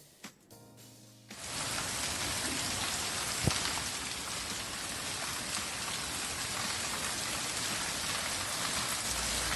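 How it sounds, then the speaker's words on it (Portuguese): Heavy rain falls in Paranoá, Brasília, a dense, steady hiss that starts abruptly after a brief quiet moment and continues loud and unbroken. "esse barulhinho da chuva"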